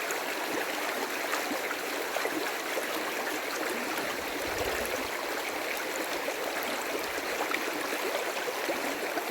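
Water washes steadily through a gold pan of Canadian gully pay dirt, a close, continuous rushing and sloshing with a faint low gurgle partway through and no voices.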